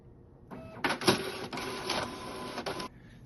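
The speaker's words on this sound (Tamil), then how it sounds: "இப்போ மாஸ்டர் ஏர்வேபிள் ஸ்கேன் ஆகுது." A document scanner scans a master air waybill, whirring mechanically at close range for about two seconds with a few clicks, then stopping, with no talking.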